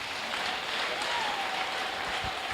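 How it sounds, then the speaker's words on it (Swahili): A church congregation claps together during a sermon on biblical baptism, a steady wash of applause from many hands, moderately loud and sustained without a break. "Kama wameelewa, mpe Yesu makofi."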